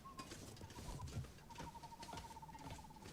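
Soft, low owl hoots sound at night in The Long Dark's frozen wilderness, muffled and fairly distant, with a thin, steady high tone and light rustling underneath.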